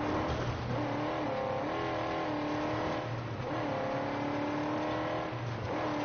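A car engine in the Mad Max video game revs and accelerates, its pitch climbing, dropping and climbing again across two rising sweeps, steady and prominent with no talk over it.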